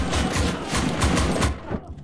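Rapid gunfire in the Enlisted World War II shooter game, a dense burst of automatic shots in quick succession for about a second and a half before cutting off abruptly.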